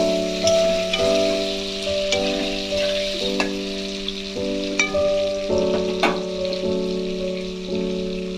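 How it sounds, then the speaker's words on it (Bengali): Potatoes fry with salt in hot oil in a steady, close sizzle, with occasional sharp pops and scrapes over a constant hiss. "এই দেখো বন্ধুরা আমার আলুটা ভাজা হয়ে গেছে"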